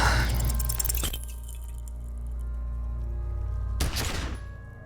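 A single loud in-game gunshot from Disco Elysium, a sharp burst at the start followed by a quieter stretch and a second heavy impact near the end, with no talking over it.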